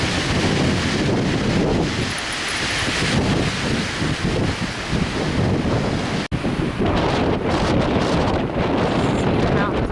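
Strong December wind blowing hard outdoors near a house and trees, a loud continuous roar buffeting the microphone for the whole stretch, gusting in waves with no letup.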